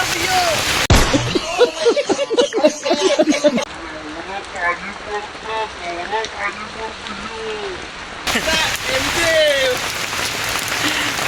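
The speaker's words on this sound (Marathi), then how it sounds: "तुम्ही बघू शकता पाऊस" Rain falls outdoors as a steady, wide hiss of drops hitting surfaces, with voices talking over it at the start and again near the end.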